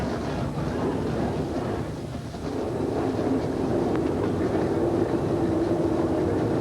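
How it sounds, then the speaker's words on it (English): Stock car engines from the 1995 ASA AC-Delco Challenge Series idle together on the starting grid at Brainerd International, forming a dense, continuous, loud rumble that swells slightly partway through. "the engines are running"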